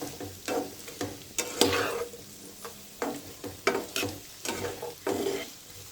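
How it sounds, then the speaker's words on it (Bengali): Cut potatoes frying in a pan while being stirred, soft sizzling under repeated scraping strokes of a spoon coming every half second or so, close and fairly quiet. "আলুগুলো দিয়ে আমি ভালোভাবে নেড়ে আমি লবণ দিয়ে দিলাম"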